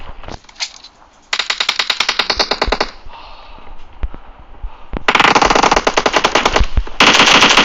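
Automatic weapons rattle in long, rapid bursts during a PUBG team deathmatch, loud and close, with short pauses between volleys and overlapping fire from several guns.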